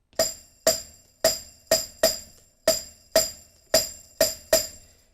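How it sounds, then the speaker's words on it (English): Ten sharp metallic strikes with a jingly shimmer from a cowbell strapped to a tambourine ring out alone in an uneven rhythm, each bright hit decaying quickly. "I've got this cowbell strapped to a tambourine, and that sounds like this."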